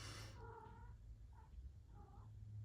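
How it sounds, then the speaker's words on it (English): A pet cat gives a few soft, short meows, spaced apart against a quiet indoor room with a low hum. "And my cat is meowing there, you probably hear."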